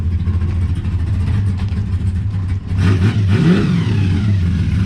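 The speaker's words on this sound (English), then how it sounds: "that's a loud ass pump" An LS-swapped Mustang engine runs loudly up close with a droning pump whine over it; the pitch swells and shifts briefly partway through as the engine revs.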